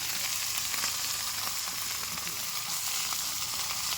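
Fish frying on a hot tawa at Manchanabele, a steady loud sizzle and crackle of oil that fills the whole stretch without pause, no voices over it.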